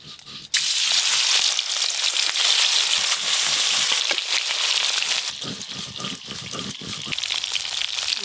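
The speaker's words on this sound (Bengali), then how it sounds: "মাছগুলো ভেজে নেব।" Pieces of live pond-fresh catla fish frying in hot oil for a thin gourd curry, a loud steady sizzle that bursts in suddenly after a quiet half-second and crackles on without pause to the end.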